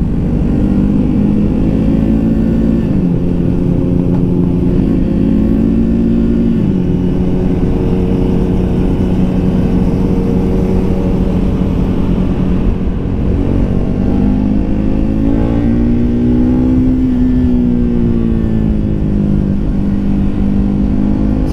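A Triumph Speed 400 motorcycle engine hums steadily while riding through town, loud and continuous, with the pitch rising and falling through gear changes and throttle shifts.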